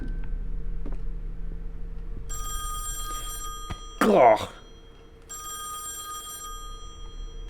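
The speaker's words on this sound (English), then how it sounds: "The phone." An old telephone rings in the horror game Song of Horror, two bursts of bright ringing separated by a short voiced groan, over a quiet low drone.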